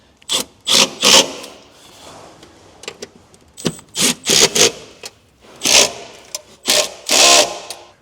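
Tightening car seat mounting bolts in an INEOS Grenadier with a power tool, heard as a series of short ratcheting and whirring bursts separated by brief pauses, close and fairly loud.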